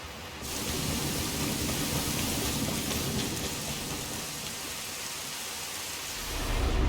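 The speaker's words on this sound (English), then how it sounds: "It's literally a night rain." Heavy rain pours down continuously in the video game Elden Ring: Nightreign, a loud dense wash of noise with a low rumble swelling at the end that suggests thunder.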